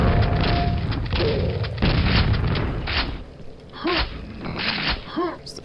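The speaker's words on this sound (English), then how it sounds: "It's the super shotgun." Super shotgun in Quake blasting during a Halloween jam level, a few heavy booming shots with rough noisy bursts, loud and close, mixed with other game sounds.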